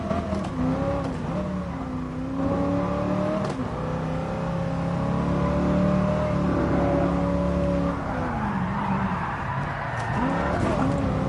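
A Black Series car slides through a drift on the Nürburgring, its engine holding a loud, steady tone that bends and wavers with the slide, tire noise rising near the end.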